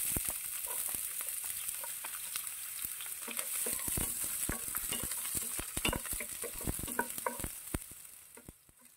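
Onion sautéing in a little hot oil in a pan: busy close crackling and popping with sharp spattering bursts over a steady sizzle, fading toward the end.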